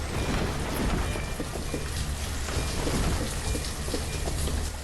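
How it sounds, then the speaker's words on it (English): Steady rain pours in the Banished city-building game, a dense, continuous hiss with low rumbling underneath, loud and unbroken without talk. "And it's raining again."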